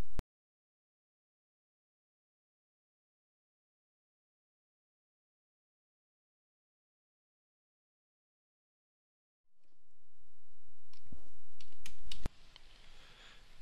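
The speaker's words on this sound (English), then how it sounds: "And I will now type in the data ranges corresponding to each interval." Computer keyboard typing while entering data ranges into a spreadsheet, a brief click at the start, long silence, then a burst of quick close keystrokes near the end.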